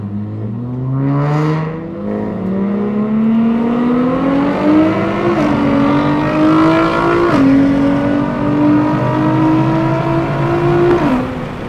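Turbocharged Nissan Z pulling hard in a roll race, engine note climbing steadily through the revs with two quick gear changes dropping the pitch before it climbs again, loud and close the whole time.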